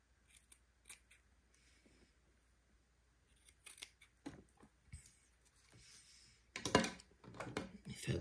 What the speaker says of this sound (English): I'm going to trim my lace now.